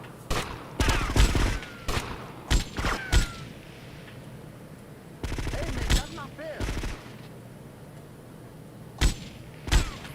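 Gunshots in GTA Vice City: sharp, loud bursts fired in clusters of single shots and short rapid strings, split by quiet gaps.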